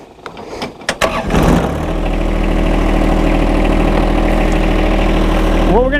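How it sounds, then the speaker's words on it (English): A few clicks and a short cranking sputter, then a John Deere 1025R subcompact tractor's diesel engine catches and settles into a loud, steady idle. "we're going to get on the tractor here and start it up."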